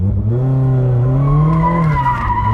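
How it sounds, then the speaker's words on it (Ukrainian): A Mazda MX-5 on a race track slides its rear tires in a powerslide out of a corner, a loud close tire squeal with a wavering, rising pitch that holds for the whole moment, alone without talk. "І отак от можна в таких пауерслайдах виїжджати із поворотів."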